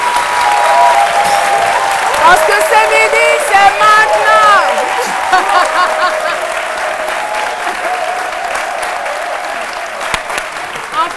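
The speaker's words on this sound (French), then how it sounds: "avec l'appui de vos chers applaudissements s'il vous plaît" A TV studio audience on the midday show C'Midi applauds loudly and steadily, the clapping running the whole time while a host speaks over it, with scattered whoops near the start.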